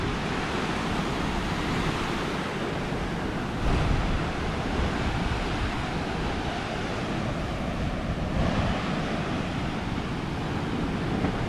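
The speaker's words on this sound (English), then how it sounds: "The waves are really tough." Strong Caribbean ocean waves crash along a rugged coast in Aruba, a constant loud roar of surf mixed with wind buffeting the microphone.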